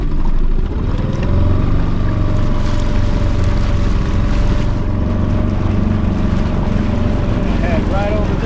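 A small outboard motor drones loudly and steadily on a tiny Bass Raider 10e plastic boat, with wind buffeting and water rushing alongside.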